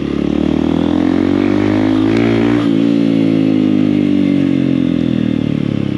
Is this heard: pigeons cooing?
no